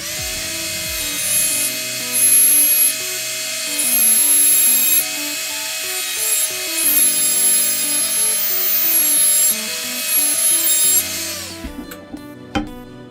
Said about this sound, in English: we've come back in with one of the other cutters. So this really is a cutter rather than an abrasive